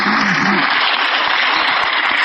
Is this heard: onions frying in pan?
no